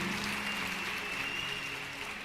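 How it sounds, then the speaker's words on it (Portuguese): A church congregation applauding, a dense, even wash of many hands clapping at once, moderately loud and steady throughout with no speech. "Você pode aplaudir ao Senhor bem forte"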